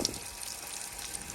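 Water rushing out of a roof water tank's drain, a steady close gushing and splashing that holds at the same level throughout.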